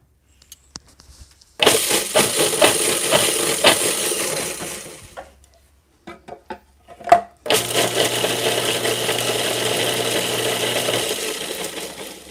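A food processor pulses oats into flour in a home kitchen: a loud whirring burst of about three seconds, a pause with a few clicks and knocks, then a second sustained whir.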